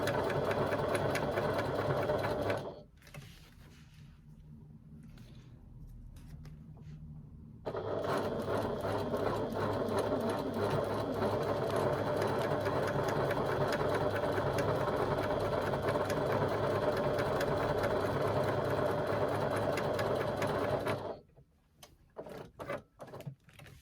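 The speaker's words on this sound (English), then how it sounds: "I'm going to sew baste my foam onto the side panel using the longest stitch length I have" A sewing machine runs long basting stitches through foam on a side panel, a loud, close, steady mechanical whir that pauses briefly once and stops near the end.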